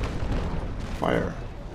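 A sailing warship's cannon broadside booms during a Naval Action sea battle, one deep muffled blast with a rumbling tail, heard under game ambience with speech around it.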